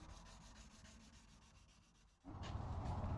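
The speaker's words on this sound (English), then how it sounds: "I got a couple blocks that I make that I use for sanding these bevels" Rhythmic back-and-forth rasp of a sanding block on the bevels of a steel knife blade, quiet strokes at first, then a sudden louder, heavier scraping.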